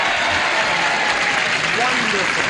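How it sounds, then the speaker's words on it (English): A 1970s game show studio audience cheers and applauds loudly for a celebrity couple, a dense, steady wash of clapping and whoops filling the room throughout. "I want to hear a loud cheer, folks"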